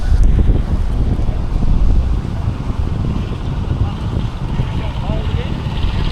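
Strong wind buffets the microphone on a hot mountain road, a loud, steady roar of gusts rumbling low throughout, with a voice talking underneath.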